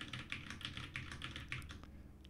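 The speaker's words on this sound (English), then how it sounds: "if I press the arrow keys" Arrow keys on a computer keyboard are pressed in a quick, even run of about seven crisp clicks, close and fairly quiet, with no voices.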